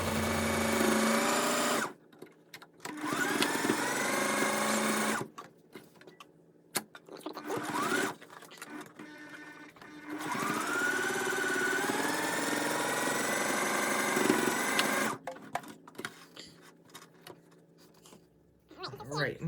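Sewing machine stitching a fabric mask, a close whirring motor hum in several long runs broken by short pauses, with a person talking in the gaps.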